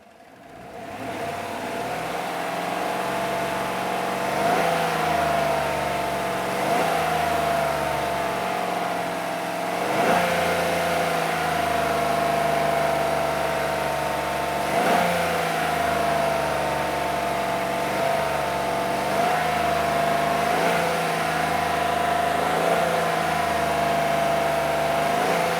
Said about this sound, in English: So rev it again.